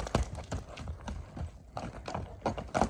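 Horse hooves clatter in a quick, uneven rhythm of sharp knocks at a horse market in Kara-Kulja, with busy outdoor background noise and occasional faint voices.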